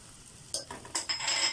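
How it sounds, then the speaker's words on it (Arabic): Food sautéed in a pan for Egyptian lamb fatteh, a few quick close scrapes and tosses building into a brief sizzle after a quiet start. "لغايه ما يتشوح كده، شوحناه"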